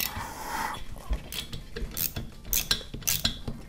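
A wrench works a cylinder head bolt loose on a Vittorazi Moster Plus paramotor engine, giving a few quiet, uneven metallic clicks and ratcheting ticks close by, with no talk.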